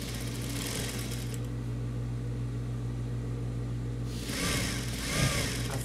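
A sewing machine runs steadily close by as it stitches along the fabric edge of a patchwork rug, with a continuous whirring hum that shifts slightly near the end as the fabric is handled, and no talking.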